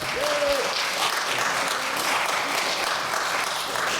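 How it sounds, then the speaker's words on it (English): Audience applause at a fine arts music event, a dense, continuous wash of many hands clapping at a steady level, with a faint voice at the start. "Let's thank the two of them for coming again, please, with applause."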